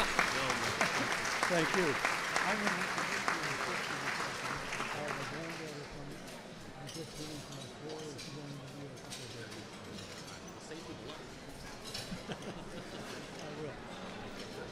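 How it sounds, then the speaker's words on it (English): Applause from attendees at a bar association annual meeting, loud clapping at first that thins and fades over several seconds while people talk over and after it. "and now you can applaud."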